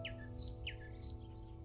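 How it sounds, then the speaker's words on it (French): Recorded birdsong plays quietly behind a coworking livestream: a few bright, brief chirps repeat in a loose rhythm over a steady low electrical hum. "Si jamais le son des oiseaux il est trop fort,"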